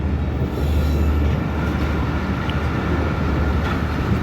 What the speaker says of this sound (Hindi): डेड स्लो ट्रेन इस शहर से पास हो रही